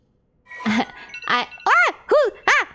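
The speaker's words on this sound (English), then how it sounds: "that's my alarm" A phone alarm sounds from a game in five bright, chiming tones. The first is a short blip after brief silence, then four rising-and-falling rings follow at a steady pace, clear and alone.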